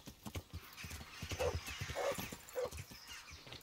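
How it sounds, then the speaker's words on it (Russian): A wounded horse whinnies in the Kingdom Come: Deliverance video game, three short neighing cries in a row over hoof clatter and rustling, fairly close. "Раненая лошадь."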